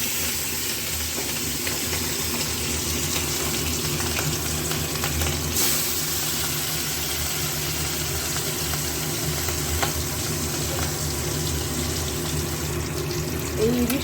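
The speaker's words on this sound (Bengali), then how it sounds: "ইলিশ মাছটা ভাজছি, তাই তোমাদের সঙ্গে শেয়ার করলাম।" Hilsa fish sizzles in hot oil in a pan, a dense steady crackling fry close by that runs continuously, with occasional louder spatters and brief soft background sounds.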